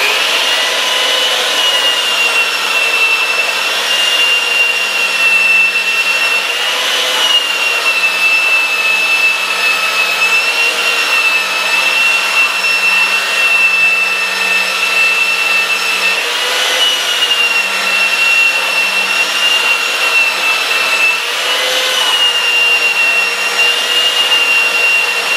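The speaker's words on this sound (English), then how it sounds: "I'm going to do my first sand with my 40 grit here." Steady, loud abrasive whirring of a power sander with coarse 40 grit sandpaper taking ink off a flat surface, running continuously and alone throughout.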